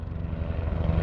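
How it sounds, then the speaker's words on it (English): A helicopter's rotor thumps rapidly and loudly nearby, a steady low chopping drone throughout, high in the Alps at about 2500 m near snowfields. "there's actually a helicopter coming up here right now"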